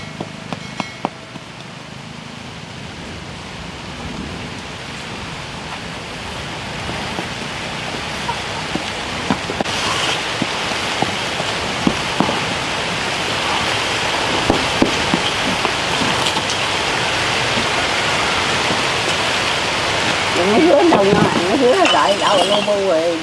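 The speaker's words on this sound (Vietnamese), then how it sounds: "Mưa càng ngày càng lớn, nhưng mà mình có cao su đậy cũng đỡ" Heavy rain drums steadily onto a rubber tarp cover near an outdoor pond, a dense continuous hiss with scattered louder drops, while people talk faintly underneath.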